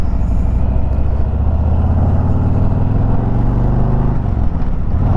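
A 2021 Harley-Davidson Road Glide Special motorcycle is ridden through a slow turn, its engine a loud, close, steady low throb with a slight drop in pitch near the end.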